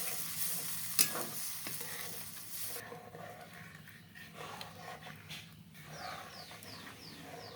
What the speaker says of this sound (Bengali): এইরকম ভাব অনবরত নাড়িয়ে যেতে হবে, নইলে কিন্তু কড়াইয়ের তলায় ব্যাটারটা লেগে যাবে